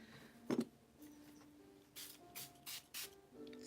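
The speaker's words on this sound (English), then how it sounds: "Sorry, just spraying some sage." Several short bursts of sage aerosol spray hiss close by, one quick puff followed by four longer sprays in a loose rhythm.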